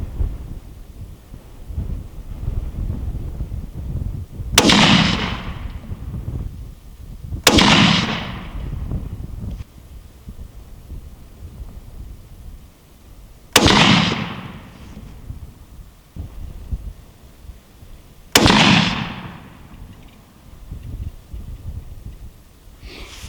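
Remington rifle firing a five-shot group at an outdoor range, four sharp loud cracks spaced several seconds apart, each with a short rolling echo, low wind rumble between shots.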